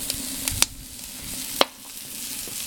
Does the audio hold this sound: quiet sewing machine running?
no